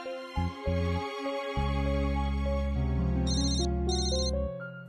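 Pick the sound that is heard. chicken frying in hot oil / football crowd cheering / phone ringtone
phone ringtone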